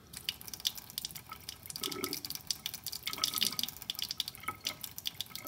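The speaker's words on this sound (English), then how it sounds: "Just fill it with cold tap water." Cold tap water runs into a laboratory beaker, a close, uneven splashing and trickling with bursts of drips that rise and fall as the beaker fills.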